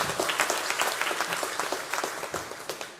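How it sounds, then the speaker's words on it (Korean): A Sunday worship congregation at Mokpo Yangdong Church claps loudly and continuously in praise, many hands producing a thick, even roar of applause throughout with no speech. "그 부활의 인생으로 바꿔주신 주님께 영광의 박수 올려드렸습니다."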